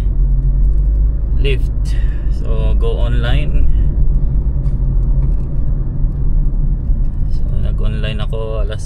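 A car engine runs at idle inside the vehicle in Edmonton, a steady low rumble heard close throughout while someone talks over it.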